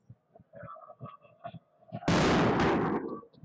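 Home fans at a Serbian Prva Liga football match between OFK Beograd and Smederevo 1924 set off pyrotechnics, producing a loud, sudden crackling blast that lasts about a second after softer rhythmic crowd sounds.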